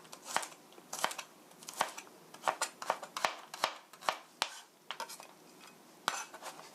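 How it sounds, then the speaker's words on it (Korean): A knife slices garlic thinly on a cutting board in quick, crisp close taps, an irregular run of about a dozen light chops with no talk. "갈릭, 마늘도 얇게 슬라이스 해서"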